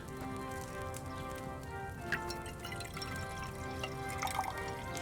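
Liquid trickles and drips in a steady soft patter while an alchemy potion is poured in Kingdom Come Deliverance 2, faint and continuous with a few brighter drops near the end.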